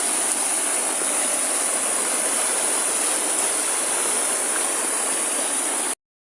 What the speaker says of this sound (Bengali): এই পানি বরইয়া এবং জগৎপুরের দিকে প্রবাহিত হচ্ছে